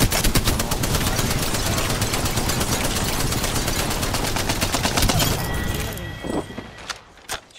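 Rapid, dense video-game gunfire in a sustained automatic burst, loud and close, dropping off into scattered quieter shots near the end, with a voice speaking over it.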